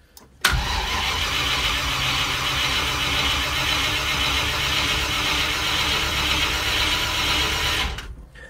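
A Land Rover 90 with a V8 engine cranks over steadily for about seven and a half seconds without catching, a loud, continuous starter churn that begins abruptly and cuts off cleanly.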